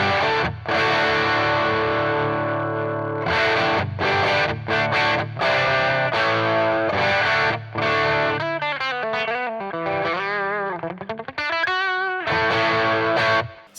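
Electric guitar played through a BOSS Blues Driver BD-2W overdrive with the tone knob all the way up, bright and gritty sustained chords and bent, warbling notes, loud and close with short gaps between phrases, no talk.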